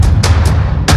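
Heavy booming impacts hit over a deep rumble, three sharp bursts in under a second, loud and close.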